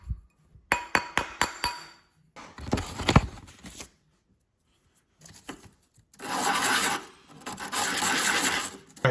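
Metal coin ring having its inside seam smoothed by hand, a rasping, scraping rub in short bursts, then a longer steady stretch of abrasive rubbing, close and fairly quiet with pauses between.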